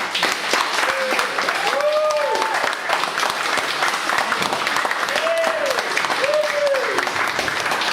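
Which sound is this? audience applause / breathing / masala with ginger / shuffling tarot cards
audience applause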